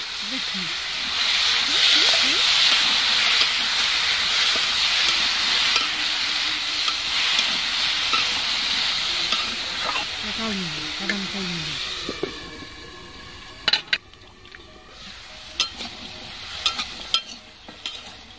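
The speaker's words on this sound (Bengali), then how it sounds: "এবার আমি বিনস আর গাজরগুলো ভেজে নিচ্ছি" Beans and carrots frying in a pan for bhoger khichuri make a strong, continuous sizzling hiss with a voice speaking underneath. The sizzle fades partway through, leaving a few clattering knocks of a utensil against the pan.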